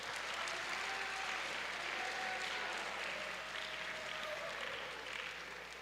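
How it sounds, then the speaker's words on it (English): Faint, distant audience applause at a guest speaker event, a continuous patter of hand claps lasting several seconds with a voice briefly audible beneath. "I see even some hand claps."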